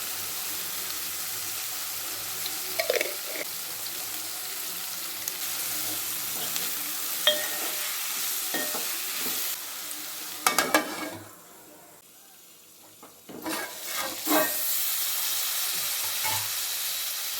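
Brinjal with turmeric and salt frying in a pan, a steady soft sizzle with scattered stirring scrapes and clinks, briefly quieting midway before resuming.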